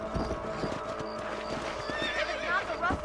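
Galloping hooves pound in a rapid rhythm as a horse neighs sharply near the end, from the Western video game Red Dead Redemption, loud and close with no talking.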